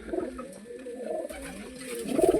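Pigeons kept for sale coo nearby in soft, throaty, repeated rolling calls, rising somewhat louder toward the end, with a faint background hiss.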